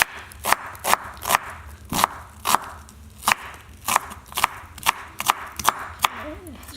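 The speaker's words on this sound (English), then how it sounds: "And this is how I cut my onion." A knife chops through onion on a cutting board, a string of about a dozen sharp, fairly even knocks at a steady rhythm, close and distinct, with a brief voice near the end.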